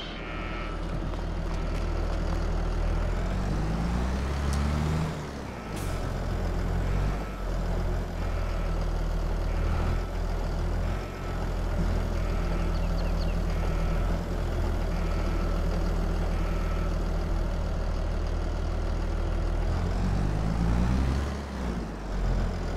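A tractor engine idles steadily in a farming video game with underground garage, silo and house mods, a continuous low diesel rumble holding close and loud with slight rises near the start and end.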